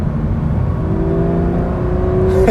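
A Porsche 911 GT3 RS driven in full manual mode gives a steady, close engine drone, with a tone that climbs gradually as it pulls in gear, and no talk over it.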